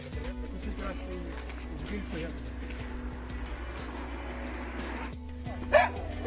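A dog on a mountain hike up Blyznytsia from the village of Kvasy barks a few times amid steady outdoor rumble and movement noise, fairly faint and intermittent.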